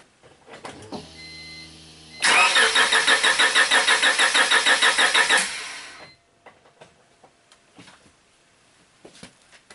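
An engine is cranked over without firing during a relative compression test: a loud, even run of rhythmic starter pulses lasting about three seconds, with light clicks and shuffling before and after.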